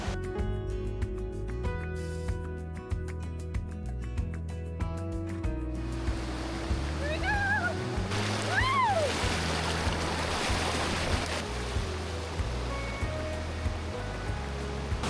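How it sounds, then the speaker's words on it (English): Steady rushing water from a waterfall at Iguazu Falls, Brazil, roars throughout, with music playing loudly in the first part and a few faint voices mixed in. "we're walking over to one of the many waterfalls here"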